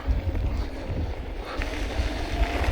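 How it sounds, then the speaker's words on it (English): Wind buffets an action camera mic during a mountain bike ride in Pemberton, making a loud, low rumble that stays steady throughout. "it's kind of windy today"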